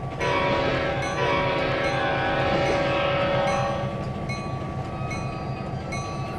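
Trains run in the Trainz 2022 railway simulator, a loud steady rolling rumble with clanking wagons and ringing tonal bell and horn-like notes, no voices.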